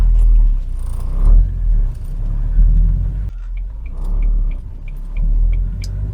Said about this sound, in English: The engine is quite boomy.